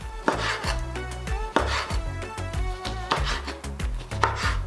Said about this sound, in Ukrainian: Помаранчеву серцевину розділяємо на невеличкі шматочки.